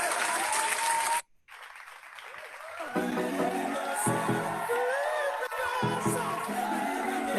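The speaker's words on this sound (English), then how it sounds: "let's give a big round of applause to Victor" Audience at a motivational speaking contest bursts into sustained loud applause with scattered whoops and cheers, a brief dropout early on, then steady dense clapping filling the room.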